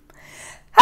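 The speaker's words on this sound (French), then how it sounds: "je vais éternuer" After a brief faint breath, a single sharp, loud sneeze bursts out at the very end.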